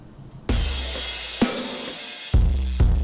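A heavily distorted, scuzzy drum pattern run through a Camel Crusher plugin, with loud booming kick hits and crunchy broadband noise between sparse strikes, played alone.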